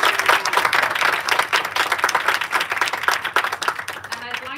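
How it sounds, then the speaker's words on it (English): A crowd at a school Thespian induction ceremony claps steadily in a dense, sustained round of applause that thins slightly toward the end, heard close, with a voice faintly over it at the close. "let's give them one final round of applause for these guys."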